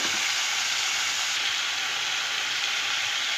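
Chopped tomatoes fry lightly in a hot pan, a steady, close sizzling hiss that holds evenly throughout with no talking.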